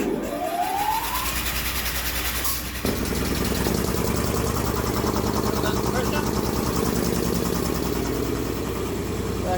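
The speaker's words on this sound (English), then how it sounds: "my little compressor" A small air compressor in a workshop starts up with a rising whine, then settles into a loud, steady, rapidly pulsing mechanical chug that continues close by, with a voice over the start.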